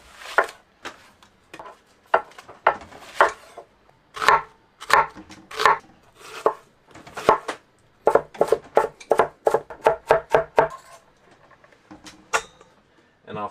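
Half a red onion being chopped with a knife on a cutting board in a boat galley, a string of sharp close knocks, uneven at first and then quickening into a fast flurry near the end.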